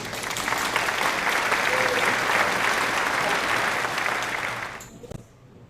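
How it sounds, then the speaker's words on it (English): Steady applause from an audience welcoming Dr. Rafi de los Reyes, an Athabasca University graduate, onto a stage; the clapping holds even and full for nearly five seconds, then cuts off abruptly to quiet room tone. "Please give him a round of applause"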